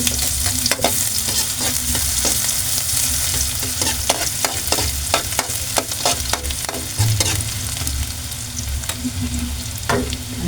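Fried milkfish and garlic sauté in a pan, giving a loud, continuous sizzle broken by repeated sharp scraping clicks of stirring, close up, with no voices.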